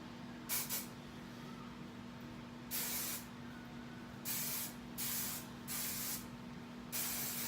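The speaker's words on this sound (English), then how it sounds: "spray over the front of it" Several short hissing sprays of hairspray from an aerosol can, close and fairly loud, separated by brief pauses over a low background hum.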